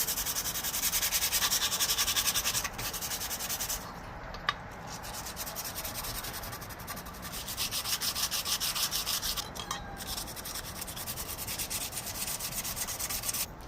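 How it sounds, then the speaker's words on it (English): 220-grit sandpaper scuffs a car's front bumper support and its brackets in a steady, continuous rasping rub. Brief pauses and shifts in stroke break it up, close and alone without voices. "take some 220 and start scuffing up the brackets and the bumper support"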